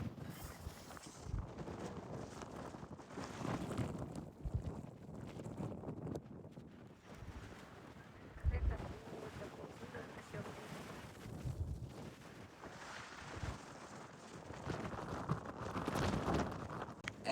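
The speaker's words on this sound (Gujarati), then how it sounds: "એટલો બધો પવન છે તમે ના પૂછો વાત." Strong, cold wind on an outdoor stop during a road trip through Llandudno and Conwy in Wales buffets the microphone in gusty, rumbling surges that rise and fall for the whole stretch, with faint voices now and then.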